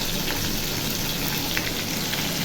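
Fish frying in a pan with black cumin and fresh green chillies gives a loud, even sizzle that holds steady throughout, with a few brief spits and crackles.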